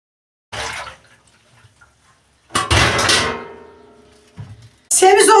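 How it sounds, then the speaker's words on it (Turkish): Purslane is washed in plenty of water, tipped from one tray to another, giving separate bursts of close splashing and pouring with clattering tray contact and quiet gaps between. "Bol suda o tepsiden o tepsiye geçirerek yıkayacağız."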